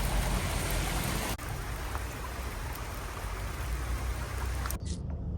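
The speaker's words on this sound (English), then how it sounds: "And yes, it does rain in Africa." Steady, heavy rain pouring down in Cape Town with a constant hiss and patter, dense and unbroken, with no voices.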